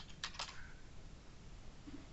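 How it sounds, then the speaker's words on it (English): Typing test into a supplier search field on a computer keyboard: a few quick close key clicks near the start, then quiet room noise. "Just by typing in test"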